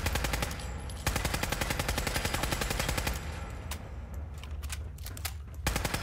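Rapid automatic gunfire in the video game Fallout 4 rattles in fast continuous bursts, loud and close, with brief pauses and a few single shots near the end.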